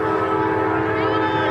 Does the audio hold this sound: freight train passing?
yes